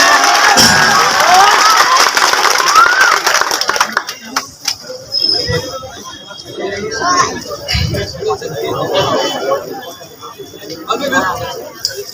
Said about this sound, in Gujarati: તાળીઓથી એમનું સ્વાગત કરીએ